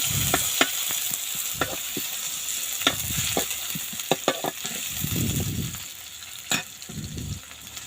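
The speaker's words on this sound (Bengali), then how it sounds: "পেঁয়াজ কুচিগুলো আমি হালকা লাল লাল করে ভেজে নেব" Chopped onions frying in a pan for a crab curry, with steady sizzling throughout and repeated sharp scrapes and clinks of a spatula stirring against the pan.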